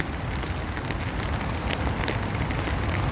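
Rain falling on melting snow in Vancouver, British Columbia, a steady dense hiss of drops with faint wind underneath, constant throughout and no talking.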